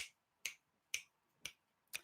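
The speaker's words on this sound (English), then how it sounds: "So now I'm sitting here snapping my fingers" Fingers snap five times at a steady half-second pace, each snap crisp, close and isolated against near silence.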